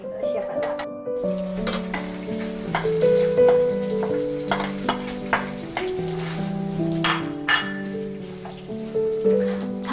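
Crab frying in oil with ginger in a pan, a steady close sizzle with scraping stirs and clinks throughout, while people talk over it.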